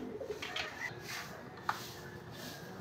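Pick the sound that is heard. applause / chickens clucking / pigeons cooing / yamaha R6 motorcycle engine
pigeons cooing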